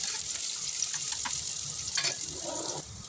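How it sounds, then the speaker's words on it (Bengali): Chopped onions fry lightly in hot oil in a pan, giving a steady close sizzle with faint stirring and a few soft clinks. "পেঁয়াজ কুচিগুলো একটু হালকা ভেজে নেব।"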